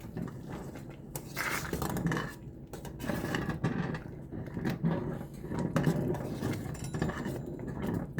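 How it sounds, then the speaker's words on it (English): Corn porridge made with condensed milk and coconut powder being mixed in a pot, a steady run of close spoon scrapes and soft clinks against the metal, fairly quiet, with no talk. "So I'm just gonna give it a mix."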